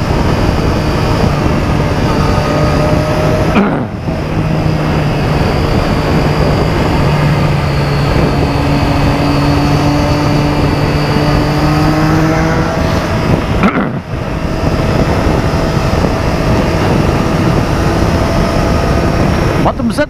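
Motorcycle engine on a morning ride in Curitiba, a loud continuous drone with rising and falling pitch through gear changes and two short dips, heard close under wind rush.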